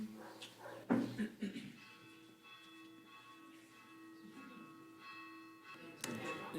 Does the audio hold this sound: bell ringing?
yes